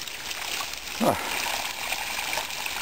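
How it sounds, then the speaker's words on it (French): Water gushing and splashing out everywhere on an outdoor mountain route facing a rampart, a steady broadband rush with a brief louder splash about a second in. "L'eau sort de partout."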